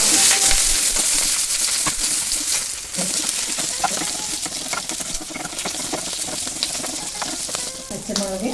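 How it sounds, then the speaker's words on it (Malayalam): Split green chillies sautéing in hot oil in a pan after mustard seeds pop, a loud, steady sizzle broken by clinks and scraping stirs of a utensil. "പച്ചമുളക് വഴറ്റി വന്നു"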